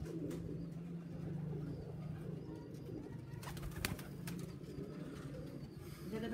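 Racing pigeons at a loft in Sargodha coo softly and faintly over a hissy background, with a few brief clicks and knocks near the end.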